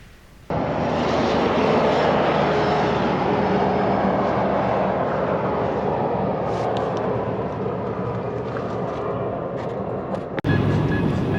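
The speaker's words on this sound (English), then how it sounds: "Road train." A road train truck roars past close by on an outback highway in Western Australia, its engine and tyre noise holding loud and steady before cutting off abruptly near the end.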